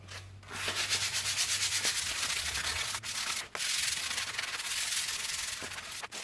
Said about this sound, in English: I'm gonna get to sanding here